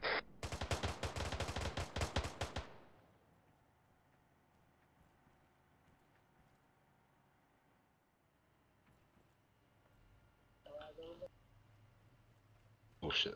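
Rapid automatic gunfire in the military shooter ArmA 3 rattles loudly for about two seconds, followed by a long quiet stretch and two shorter, more distant bursts near the end.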